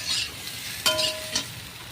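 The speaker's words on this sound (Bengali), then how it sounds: "আমি আলুটা কষিয়ে নিচ্ছি" Potatoes are stir-fried in a pan for a curry with taro stems, giving a soft sizzle broken by a few sharp scraping stirs and clinks, close by with no voices.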